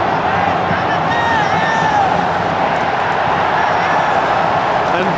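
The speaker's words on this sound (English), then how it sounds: "listen to the National Stadium. It's got the crowd going, that goal." A football crowd at the National Stadium roars in a sustained, dense wave after a goal in an Indonesia vs Singapore match, loud and constant throughout, with voices mixed into the din.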